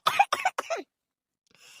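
An elderly man in an Awadhi comedy cartoon coughs three quick, close, loud times in a row, then falls silent.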